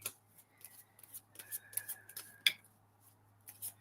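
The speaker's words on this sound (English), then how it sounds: "The cards are getting thick, you guys. Hard to shuffle." A thick deck of tarot cards being shuffled in a quiet room, giving a string of soft riffling and rubbing sounds with a few sharper card snaps over a low steady hum.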